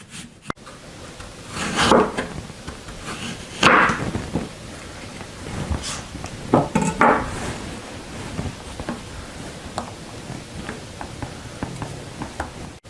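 A knife cuts an apple on a wooden cutting board, giving a few separate firm chops and scrapes with quiet gaps between them and no talking.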